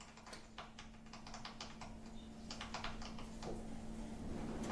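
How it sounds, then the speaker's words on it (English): Rapid clicking of typing a text message on a phone, a quiet, uneven series of light taps heard close and steady over a faint constant hum. "It sounds like we're hearing like a clicking sound as though you're texting."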